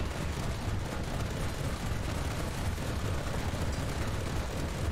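Twin anti-aircraft cannons of a Flakpanzer V Coelian in the tank battle game War Thunder, a sustained, dense roar of rapid firing that holds at an even, fairly quiet level throughout, heavy in low rumble, with no voices.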